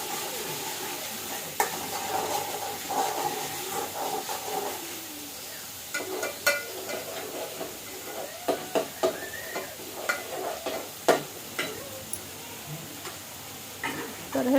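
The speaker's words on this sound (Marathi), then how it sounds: "तर हे वाटण कच्चं असल्यामुळे ह्याला परतायला थोडासा वेळ लागतो." Raw masala paste for dry chicken sautés in a kadhai, giving a steady soft sizzle under light ticking and scraping from stirring, with occasional sharper clicks of the spoon against the pan.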